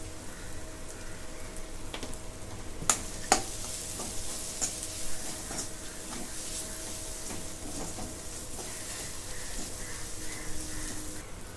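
Potatoes being sautéed with turmeric and homemade masala in a pan, with a steady soft sizzle, scraping stirs and a few sharp clinks of a utensil against the pan.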